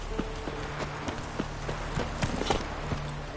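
Roach, Geralt's horse in The Witcher video game, gallops in a steady run of rhythmic clip-clopping hoofbeats, close and moderately loud over a low ambient game background.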